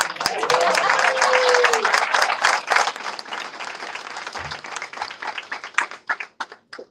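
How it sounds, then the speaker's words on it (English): Audience applause at a human services career program graduation: a loud burst of clapping that holds for several seconds, then thins into scattered individual claps as it dies away, with a brief tone and some voices underneath. "I think he wants more applause."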